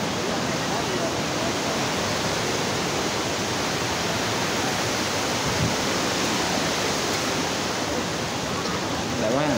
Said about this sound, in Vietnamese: Không biết nói gì hơn chứ cái thác Cam Ly này.